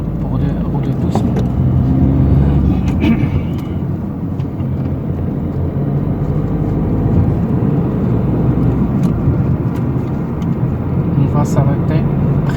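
A car engine hums steadily at low speed during a driving lesson, a continuous close rumble with an instructor and learner talking over it.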